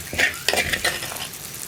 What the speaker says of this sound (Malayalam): അടിഭാഗമൊക്കെ ചേർത്ത് ഒന്ന് വടിച്ചെടുക്കാം